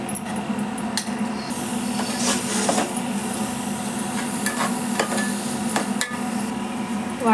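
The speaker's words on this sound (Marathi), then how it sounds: "वाटण मस्त परतून घेतलं तर तेल कांद्यामध्ये." Ground masala paste with onion sizzles in oil in a pan, a steady low frying hiss broken by occasional scrapes and knocks of a spoon stirring against the metal.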